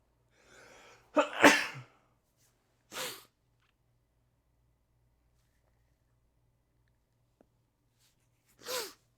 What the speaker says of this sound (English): Ooh, hang on a second. I'm gonna sneeze.